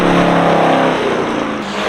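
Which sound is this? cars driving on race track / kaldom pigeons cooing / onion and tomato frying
cars driving on race track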